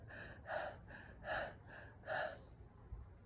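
Someone demonstrates rapid, shallow breathing, with three quick quiet gasping breaths in a steady rhythm, each in and out, heard close and alone.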